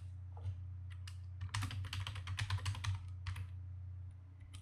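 A password typed on a computer keyboard: a quick, close run of light key clicks in a brief burst, with a low electrical hum underneath and no voice.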